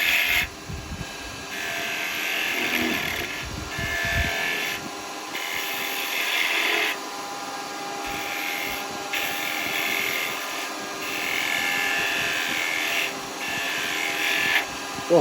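Wood lathe shaping a wooden spinning top with a skew chisel, a whining motor hum broken by repeated bursts of cutting and scraping from the tool on the spinning wood, with brief pauses between cuts.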